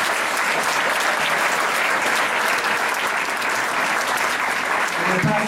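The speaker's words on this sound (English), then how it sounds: "If we can just get one more huge round of applause for them." Sustained, dense applause from a crowd at a sports players-of-the-year awards event, steady and loud throughout with no break.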